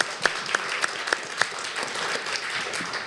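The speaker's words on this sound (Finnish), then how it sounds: "Eli eiköhän me anneta aplodit vielä koko porukalle" A group at a member gathering applauds together, steady clapping from many hands filling the room, with a few sharper nearby claps standing out early on.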